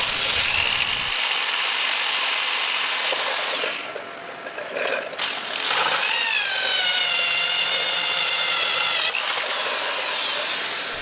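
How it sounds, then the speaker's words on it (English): A power drill bores holes for drain bulkheads in the bottom of a jellyfish breeding tank, whining steadily and loud up close, with a brief drop around the middle before the drilling resumes. "We need to measure and drill the holes where the drain bulkheads will come out of the tank."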